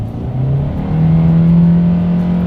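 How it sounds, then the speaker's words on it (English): A 2021 Hyundai Accent accelerates hard up to speed, its small engine droning close and steady as the pitch climbs and holds high through the gears, with no talking. "let's put the new Accent here to the test, and let's see how quickly we can get this one here up to speed"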